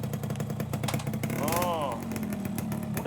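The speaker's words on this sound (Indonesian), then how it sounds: "Motor saya kok jadi malah hidup gini?" A repaired motorcycle engine runs steadily at a roadside workshop, humming close under people talking.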